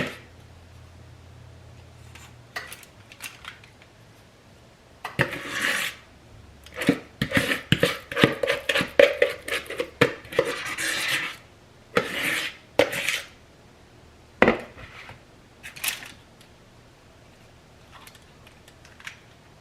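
A spatula scrapes banana bread batter along the sides of a pan, giving irregular clusters of scraping and clinking strokes that come in bursts with quieter pauses between them.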